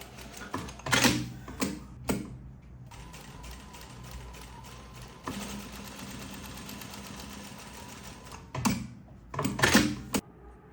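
A sewing machine stitches fabric pieces together in bursts, a fast rattling mechanical whir that runs steadily for several seconds between sharper clicks and handling noises at the start and end.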